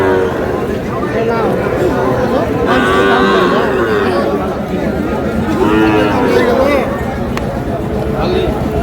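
A four-month-old Sahiwal bull calf moos several times at a crowded cattle market, its drawn-out calls mixed into steady close talk and crowd chatter.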